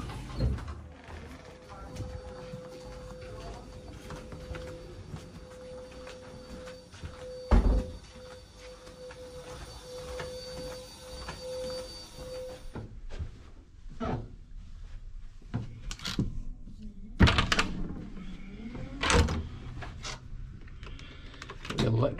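Lift doors slide and the car hums along in a Wetherspoon hotel in Bedford, England, with thumps and clunks through the ride and faint background voices.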